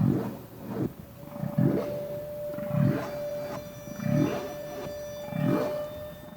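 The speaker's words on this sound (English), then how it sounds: "the characteristic sound of a whale releasing air bubbles to construct the trap" A series of low, rushing bursts repeats about five times at a steady rhythm over a faint steady tone, a humpback whale releasing air bubbles underwater.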